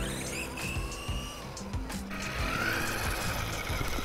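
A G173 4X4 RC dune buggy drives over grass with a continuous whining electric motor hum that rises and falls with throttle, fairly close, with no talking over it.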